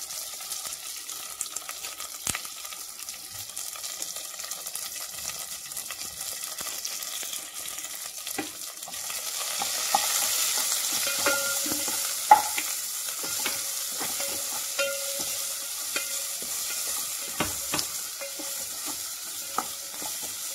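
Onions with salt sauté in a pan, crackling lightly at first and then building to a fuller, steady sizzle, punctuated by occasional scrapes and taps of stirring.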